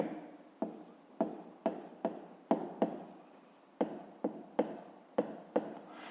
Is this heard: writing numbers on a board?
yes